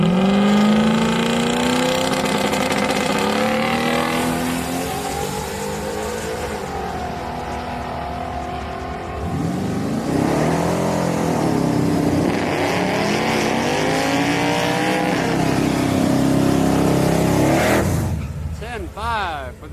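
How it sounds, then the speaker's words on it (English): Turbocharged and naturally aspirated Camaros drag racing side by side at a Houston Raceway Park street night, engines roaring loud and close for the whole run, with a commentator talking over them. "Turbo Camaro on the right lane. NA Camaro in the left lane."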